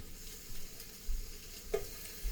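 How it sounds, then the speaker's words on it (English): Food browns in a pan with a low, steady sizzle and frying crackle, with occasional stirring scrapes and soft knocks, close and alone with no talking. "I'll just chop those into the pan and brown them off."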